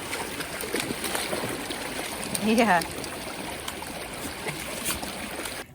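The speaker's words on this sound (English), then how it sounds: "We're back at our favorite little creek." A small creek flows in a steady babbling trickle close by, continuous watery rush beneath a brief spoken word.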